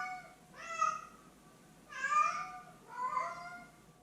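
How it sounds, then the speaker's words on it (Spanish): Alcachofo, a cat adjusting to a new home during its first week, meows three times, each call drawn-out, insistent and close, with short quiet gaps between them. "Y Alcachofo siguió maullando de manera muy intensa."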